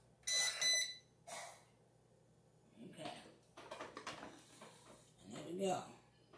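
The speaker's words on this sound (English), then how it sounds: "Let's turn this beeper off." A heat press beeper sounds in a few short electronic alarm bursts during a Cameo 4 weeding session, with people talking and handling noises in between.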